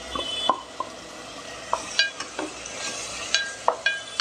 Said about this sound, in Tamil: இப்போ அரைச்சி வச்ச மசாலாவை போட்டுடலாம்